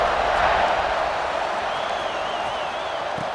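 A football stadium crowd roars steadily before kickoff at a college game, Florida at Auburn, a dense continuous wash of cheering and noise with a faint whistle-like tone rising above it partway through.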